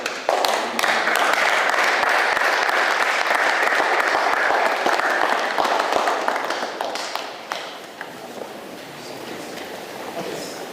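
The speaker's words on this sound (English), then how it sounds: "Please, can we give a hand of applause?" Sustained audience applause at a U.S. congressional briefing on Biafra, a dense, steady wash of many hands that holds strong for most of its length before thinning slightly near the end.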